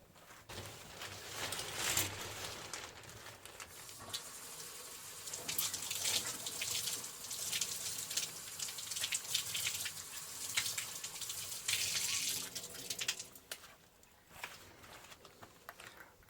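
Water runs from a tap in steady, fluctuating streams over a scalp before a head shave, fairly close, swelling and easing for several seconds before cutting off near the end.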